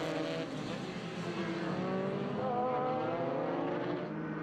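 F2000 and F1000 open-wheel race cars battle on the final lap at Road Atlanta, a dense blend of high-pitched engines screaming steadily, loud and continuous.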